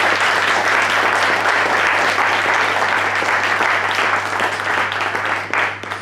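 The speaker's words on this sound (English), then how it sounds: "a big round of applause for him" A crowd applauds loudly and continuously, the clapping thinning slightly toward the end.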